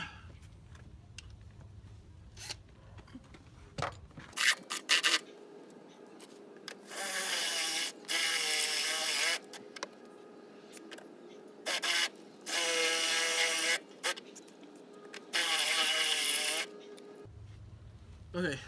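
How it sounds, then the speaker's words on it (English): Holes drilled out with a unibit step drill bit while installing rock sliders, several loud grinding bursts a second or two long separated by pauses, with people talking between them. "we're going to get a unibit and we're going to drill out all the holes"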